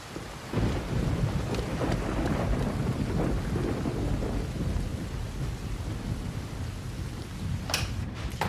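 Steady heavy rain falls with a dense broadband hiss and patter, with faint rumbles of thunder underneath and a sharper burst near the end, no voices.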